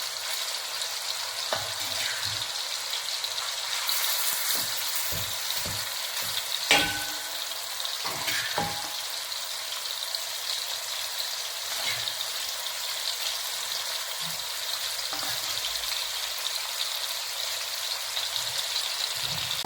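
Fish frying in coconut oil in a pan for Kerala fish pickle, a steady bright sizzle and crackle running throughout with occasional soft clinks of stirring, close and alone without talk.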